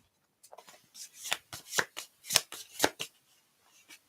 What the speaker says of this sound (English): we're gonna pull one of these spooky Thoth cards.